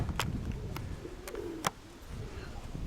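Pigeons coo softly in low, rolling murmurs, punctuated by a few sharp clicks and taps close by, with a faint outdoor background.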